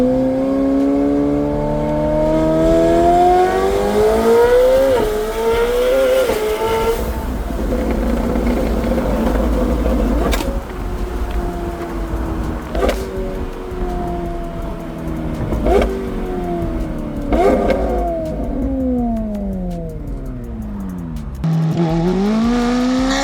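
A 1000 HP McLaren 750S supercar running on E85 revs hard and downshifts repeatedly, its loud engine note rising and dropping in sweeping pitch with sharp crackles between shifts, close and continuous throughout.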